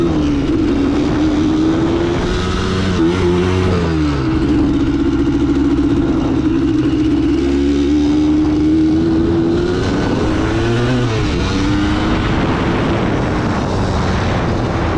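Motorcycle engine droning steadily and loudly while riding through Pisgah National Forest, pitch rising and falling with throttle changes, with continuous wind rush and no talking.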